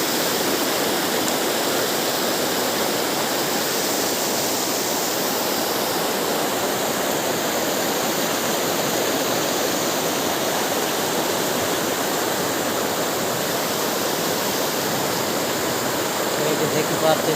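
A waterfall roars with a dense, continuous rush of falling water, loud and unchanging from start to end.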